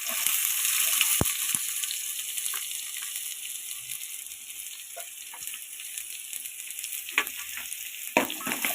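Mustard seeds and onions fry in hot oil in a pan for a sardine fish curry, giving a steady close sizzle with scattered sharp pops and stirring scrapes throughout.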